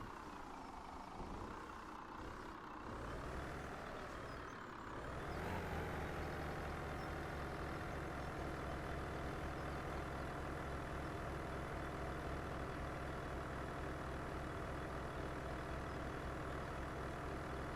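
A heavy truck engine in Farming Simulator 17 idles and revs steadily, a low continuous rumble that swells louder partway through and holds, with no talking.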